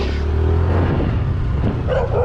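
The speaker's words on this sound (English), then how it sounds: "Oh, the dogs are coming to attack me." Dogs bark and yip outdoors at the bottom end of Jomtien, Pattaya, against steady street and traffic noise, the barks fairly close and mixed into the busy background.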